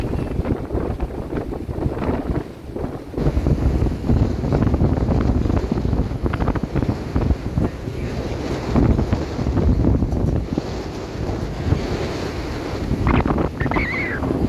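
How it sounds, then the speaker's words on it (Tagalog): Strong wind buffets the microphone at a beach, a loud continuous roar with gusting rumble and a wash of surf underneath, sustained throughout with no clear speech. "Lakas ng hangin."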